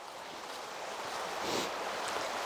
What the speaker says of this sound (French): Il y a de l'eau qui coule, on entend le bruit de la rivière